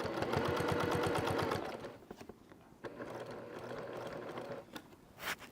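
A sewing machine stitches quilted fabric with the needle kept down, a fast rhythmic mechanical chatter for about two seconds, then quieter handling and shuffling of the material.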